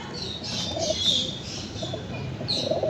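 Pigeons coo softly in a loft, low throaty calls repeating every second or so over a faint background with occasional higher chirps and brief wing flutters.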